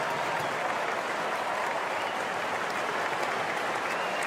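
A large crowd of Brisbane Lions fans at a Saturday night AFL game applauds in a steady, dense roar of clapping that holds at an even level throughout, heard from a distance across the stadium.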